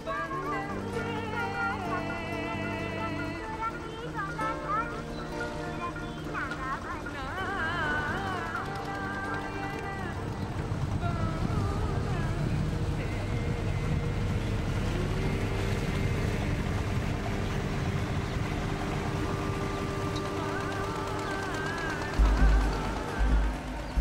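A boat motor drones steadily on open river water in a delta, with wind buffeting the microphone and a few faint rumbles near the end.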